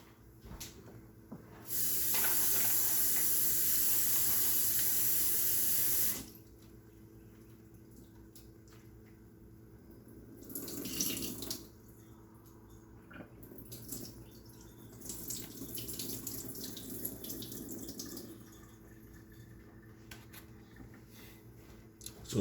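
Tap water runs steadily into a kitchen sink for about four seconds while shredded carrots are washed, followed by quieter splashes, rinsing and handling sounds at close range.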